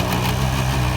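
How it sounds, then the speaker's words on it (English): Reds Elliott Boots nitro model engine in a Kyosho MP9 TKi3/TKi4 buggy, primed with the throttle slightly open during break-in: a loud, close, steady buzzing drone with a continuous high-pitched whine, heard alone. "So you hear the engine pick up speed, you know that it's primed."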